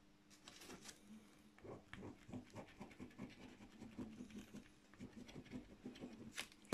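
Steady pattering of rain with soft scratchy droplets and a faint background hum, continuous throughout at a moderate, even level.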